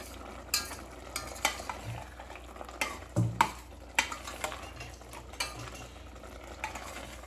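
Vegetables seasoned with salt fry quietly in a pan while a utensil stirs and scrapes, giving sharp clinks and knocks at irregular intervals over a low, steady sizzle; nobody speaks.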